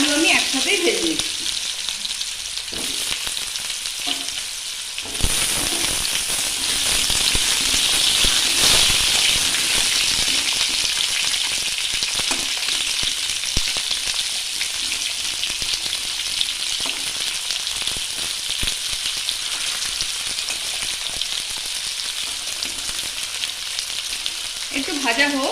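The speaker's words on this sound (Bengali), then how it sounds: "কুমড়ো আর আলু আমি একসাথেই ভেজে নিচ্ছি" Pumpkin and potato pieces fry together in hot oil, giving a continuous loud sizzle and crackle with occasional stirring, close up and with no voices throughout.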